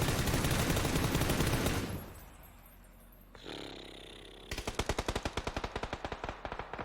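Automatic gunfire in a video game match, a long dense burst that cuts off, a quiet gap, then another rapid rattling burst with evenly spaced shots, loud and close.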